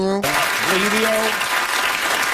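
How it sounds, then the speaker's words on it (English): A studio audience claps through a short stretch, with voices and a drawn-out cheer sounding on top of the clapping. "can you just stop clapping for a moment when he gives a shout out to radio?"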